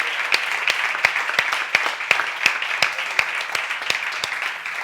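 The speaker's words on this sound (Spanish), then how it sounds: "un fuerte aplauso para Mikel" An audience at an inclusion sports forum applauds an athlete champion. Steady crowd clapping is mixed with crisp individual claps standing out at an irregular pace, moderately loud throughout.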